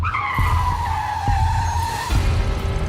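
Car tires skidding and squealing as a car brakes hard to a halt, a loud sustained screech over engine rumble lasting nearly three seconds.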